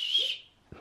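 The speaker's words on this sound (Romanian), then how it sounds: "Fluier, bravo!" A toy whistle gives one short, thin, high tone that fades out, followed by a soft low thump, close and fairly faint.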